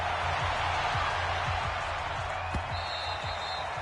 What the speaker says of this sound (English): This crowd is ready as their guys get set to match up with Aaron Rodgers and the Green Bay Packers.